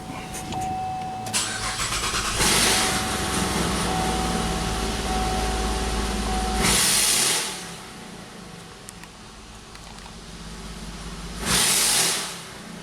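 A car engine revs hard with its exhaust opened at the bank 1 oxygen sensor hole. Two long, loud, raw bursts stand out clearly against a steady idle, with no talking over them.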